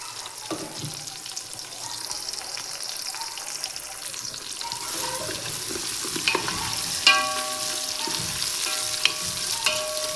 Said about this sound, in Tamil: இது நல்லா வெங்காயம் பொன்னிறவல் ஆகிற வரைக்கும் இதை வந்து நம்ம வறுப்போம்.